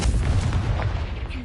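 In Hogwarts Legacy, a Confringo fire blast spell lands with a heavy, close booming burst followed by a short rumbling crackle.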